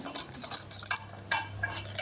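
Scissors snip through butter paper, cutting it into a round shape in a kitchen while baking a chocolate brownie, giving short papery crunches and rustles close by over a low steady hum.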